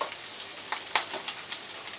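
Small pieces of food fry in hot oil until crispy, a close, continuous bright sizzle with scattered sharp pops and crackles.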